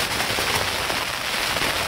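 Heavy thunderstorm rain pelts a shaking backpacking tent on the Art Loeb Trail, a dense, loud, continuous hiss of drops drumming on fabric with no voices.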